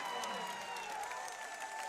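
A basketball crowd at a Montana Tech versus UM-Western game keeps up a soft, distant cheer and scattered applause after a basket, with an organ-like tone or whistle held under the noise.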